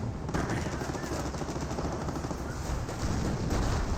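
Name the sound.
Rangers firing guns in the video game Company of Heroes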